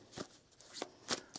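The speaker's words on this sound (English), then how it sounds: "we're going to shuffle up this deck here and see what's coming up here" A deck of tarot cards is shuffled close by, with quiet, brisk riffling bursts coming in short, uneven flurries and no speech over them.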